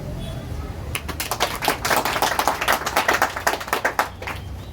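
A burst of applause from a small group, quick uneven claps swelling for a few seconds and then thinning out.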